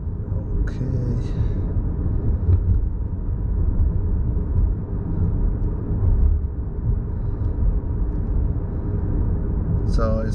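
A 2020 Honda Accord Hybrid cruising at night gives a steady, loud low rumble of road and cabin noise, with a few faint higher ticks near the start and end.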